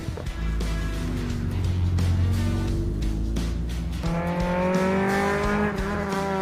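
A car accelerates hard nearby, its engine rising in a loud, sustained whine, then settling into a higher-pitched pull after a gear change about two-thirds of the way through, with no one speaking.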